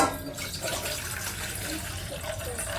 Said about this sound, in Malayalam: ഇച്ചിരി വെള്ളം ഒഴിക്കാം